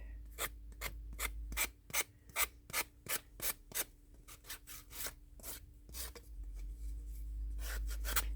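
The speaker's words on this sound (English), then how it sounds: "Let's see if I can't get the edges trimmed out good." A molded wax piece has its edges trimmed by hand, giving a series of close, distinct scraping and rasping strokes in an even rhythm, then a denser run of scraping near the end.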